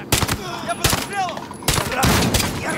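Gunfire from the video game Modern Warfare: several loud, sharp bursts of shots close up, in three clusters with brief gaps between them and a short whooshing sweep in the middle.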